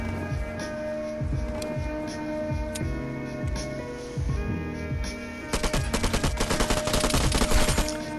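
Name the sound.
gunfire from the PM rack weapon in a video game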